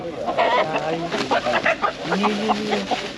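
Chickens at the Taşköprü poultry market cluck in short, repeated calls nearby, mixed with people talking.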